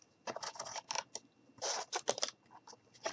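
Scissors snip through cardboard for a cardboard dumpster craft in a rapid run of close, crisp cutting bursts with short pauses between them.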